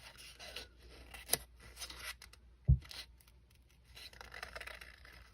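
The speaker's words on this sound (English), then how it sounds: "I think what I am going to do is cut off some of these feelers." A single crisp scissor snip cutting the feelers of a decorative bookmark, close and brief, followed by a soft thud and light rustling of handling.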